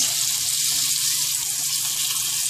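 A skirt steak pinwheel sears in a hot pan, giving a steady, close sizzle with a dense crackle of spitting fat throughout and no talking.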